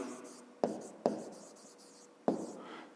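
A pen writes on paper during a fifth-grade math exercise: soft close scratching strokes with three sharper taps as the pen touches down, quiet and without talk.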